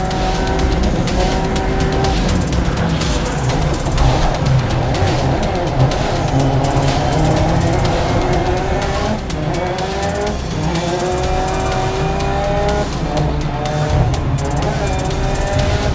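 Race cars in the Grid Legends video game roar at full throttle with continuous loud engine drone, shifting revs and tire squeal, amid the sounds of a crash during the race.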